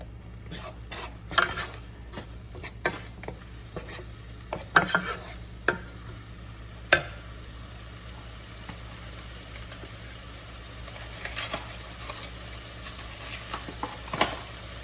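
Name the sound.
stirring chili ingredients in pan with olive oil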